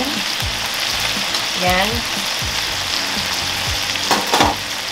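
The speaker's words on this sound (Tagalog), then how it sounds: "Diyan tayo ngayon magigisa." Filipino beef steak sizzles in a hot pan, a close, loud frying hiss with clinks and scrapes of stirring, while a voice speaks one brief word.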